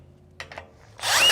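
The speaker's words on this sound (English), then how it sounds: "with a drill, I just turn it on." A power drill is switched on and whirs at low speed, rising sharply near the end after two brief clicks in an otherwise quiet moment; the motor is close and steady once it starts.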